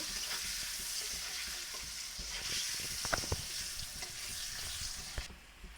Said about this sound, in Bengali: আলু নুন হলুদ দিয়ে আলুটা একটু লাল লাল করে ভেজে নেব